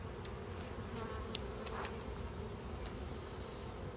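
Honey bees hum steadily around an open hive in an apiary during an inspection, a faint continuous drone with a few brief louder passes of single bees close by.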